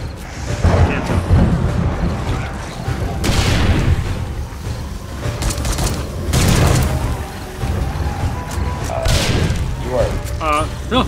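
Game gunfire and heavy booms during a blood moon horde night in 7 Days to Die Darkness Falls, dense and continuous under excited players talking over it.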